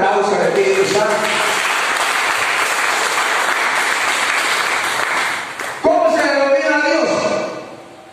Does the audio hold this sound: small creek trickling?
no